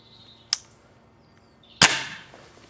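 Two sharp cracks from an Air Arms Pro Sport .22 air rifle firing RWS Superdomes 14.5 grain pellets through a chronograph, a faint snap first and then a louder shot with a brief decaying tail, in a quiet indoor space.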